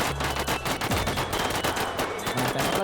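Rapid bursts of automatic gunfire in a GTA V roleplay shootout crackle continuously and loudly, with dense overlapping shots and no talking.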